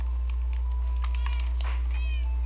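A cartoonish cat meows a few times in a Minecraft-style game world, short bright calls over a steady low background hum, with no talking.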